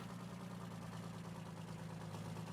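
An articulated tractor engine in Farming Simulator 19 idles low and steady while reversing, a faint constant drone with a slight hum and no speech.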